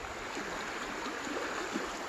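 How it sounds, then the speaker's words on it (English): A creek on a rural property flows with a steady, broad hiss and gentle burble, close and even throughout, with no voices. "This is the creek on the property."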